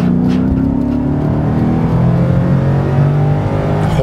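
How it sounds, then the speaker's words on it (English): A 2006 Maserati GranSport's engine and exhaust rev loudly from inside the car, a throaty, rising and falling drone that sweeps up and down in pitch without pause. "It's just a cacophony of automotive symphonic heaven coming"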